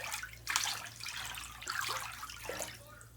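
Water sloshes and swirls as a hand stirs a filled bathtub tinted by a Slimer bath bomb, with soft splashing bursts and gurgles close by and no talk.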